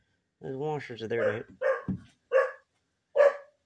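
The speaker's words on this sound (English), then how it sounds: "Sorry, guys, that was my dog." Someone speaks briefly, then a dog nearby lets out three short, sharp barks spaced about a second apart, with quiet gaps in between.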